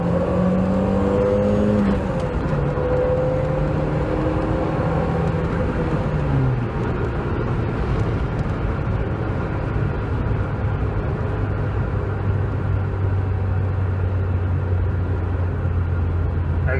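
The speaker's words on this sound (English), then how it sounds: "as good as a four-cylinder engine can sound" A Lancia Delta HF Integrale four-cylinder engine revs up and accelerates, pitch climbing through gear changes into a steady loud drone, with road and wind noise.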